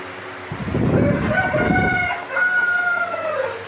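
New shipment of Sumatra chickens and roosters: several loud, close rooster crows overlap with clucking flock sounds throughout.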